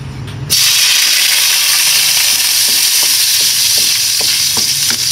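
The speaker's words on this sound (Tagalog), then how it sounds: "igigisa natin, uunahin natin yung ating luya mga kaibigan" Ginger sizzles loudly in 2 to 3 tablespoons of hot canola oil at the start of a shrimp sinigang, a steady bright hiss that starts abruptly and holds, with faint spoon scrapes and ticks over it.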